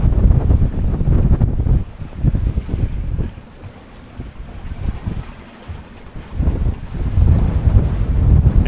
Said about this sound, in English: So we're getting quite a bit of wind, in short.